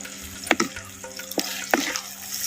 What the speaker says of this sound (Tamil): சேர்த்த மசாலாவை அப்படியே எண்ணெயில் பச்சை வடை போகிற அளவுக்கு நல்லா வதைக்கிறோம்